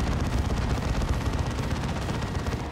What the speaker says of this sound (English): Assault Cannon Dreadnought now.